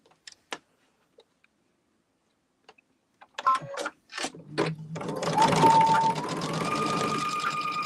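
A domestic sewing machine restitches a quilt-block seam, opening with a few scattered clicks before the motor starts and then running in a steady, close, loud rattling stitch with no talking.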